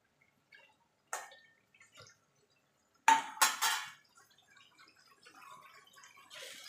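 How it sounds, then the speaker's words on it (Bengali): Water poured into a cooking pot of ridge gourd, potato and prawn curry, a short splashing burst with a few light clinks of a utensil against the pot, fairly close and alone. "একটুখানি জল দিয়ে দেবো"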